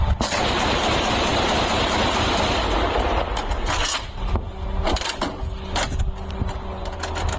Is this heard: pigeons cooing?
no